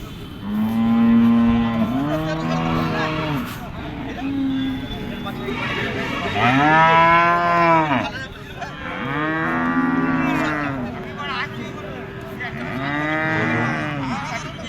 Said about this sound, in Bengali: প্রচুর গরু আছে হাটে।